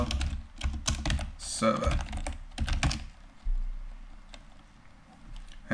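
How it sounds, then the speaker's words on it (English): Fingers type a command on a computer keyboard in quick, close clicking bursts that thin out into scattered taps, while someone talks over parts of it. "we need to type sudo apt-get install MySQL"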